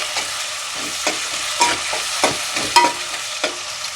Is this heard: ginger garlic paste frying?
yes